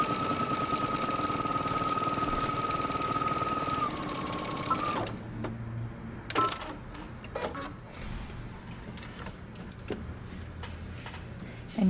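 A sewing machine stitches the center back seam of a jumpsuit in a steady mechanical hum for about five seconds, then stops, leaving quieter handling noises and light clicks.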